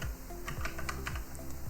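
Typing on a computer keyboard while entering commands during an Nginx web server install on Ubuntu, a quick run of light key taps close by over a low background hum.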